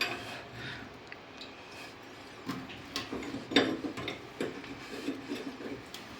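A wrench loosening the nuts on a toilet tank: faint metallic ticks and scraping rasps in an irregular rhythm, close and quiet, with no talk.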